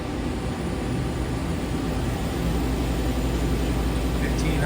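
A Leadwell LTC-20BM CNC lathe spindle runs at 500 RPM, giving a steady broadband machine whir that holds constant throughout with no voices.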